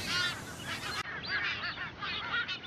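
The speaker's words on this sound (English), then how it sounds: "Sailors nicknamed them bosun birds because their calls sound like a bosun's whistle." White-tailed tropicbirds call in quick, harsh, whistling honks, several overlapping cries in a row, fairly near and clear with no talk.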